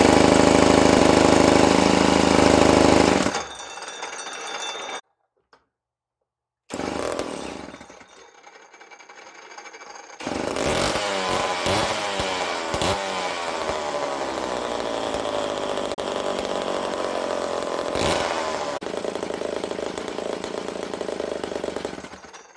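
A vintage Homelite C7 80cc chainsaw runs close and loud, roaring at high revs, then cutting out to silence before restarting and settling into a rough, steady idle with occasional throttle bursts.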